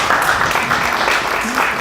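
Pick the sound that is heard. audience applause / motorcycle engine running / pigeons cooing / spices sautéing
audience applause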